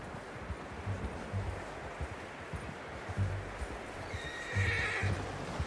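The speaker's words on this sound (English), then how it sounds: "How's that new horse?" Horse in Red Dead Redemption 2 whinnies and snorts close by, over steady clip-clop of hooves and rustling outdoor ambience, with no talk.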